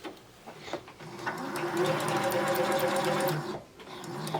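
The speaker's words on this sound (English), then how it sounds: "Careful not to sew on your pin." A sewing machine stitches fabric for a women's surgical cap, a steady mechanical whir running about two seconds between quieter handling sounds, close and fairly loud.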